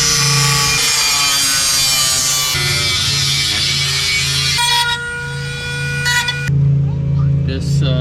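Cutting a triangle out of the core support on a Mk3 Jetta with a 1.8T swap, a loud, steady sawing and grinding buzz running nearly continuously, shifting in pitch, with speech over the top.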